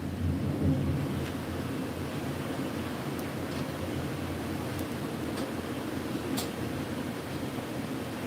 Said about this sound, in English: Ooh, that's some beautiful thunder.